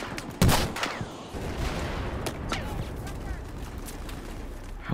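Gunfire in the video game Battlefield 4: a sharp shot bursts out near the start, followed by a rumbling wash of distant battle noise and scattered further reports.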